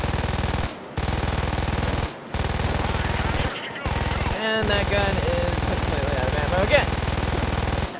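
Sustained machine gun fire in the heist shooter Payday 2, loud continuous rapid bursts with a few brief gaps, layered with game chaos and a voice speaking briefly over it.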